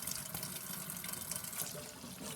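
Tap water runs steadily into a sink as shirataki noodles are rinsed, a close, even splashing rush with no talk.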